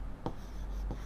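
A word being written on a classroom board, two short faint marker or chalk strokes over quiet background hum.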